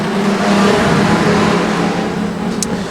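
Street stock race cars pull away at the start of a heat at Redline Raceway, a loud steady engine roar with a continuous low drone that fades slightly as the pack moves off.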